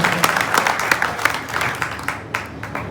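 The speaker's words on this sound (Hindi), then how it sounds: "जोरदार ताली।" Loud applause from a crowd at a public gathering in honour of a former chairman, a dense run of clapping that keeps going through the whole stretch and fades slightly toward the end.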